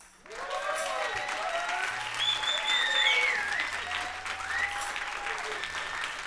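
Applause and cheering from the crowd at a live funk concert, clapping swelling to a peak midway and holding steady, with whistles and excited voices rising above the clapping.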